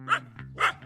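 A dog gives a few short, close barks, three bursts in under a second with a quieter yip between them.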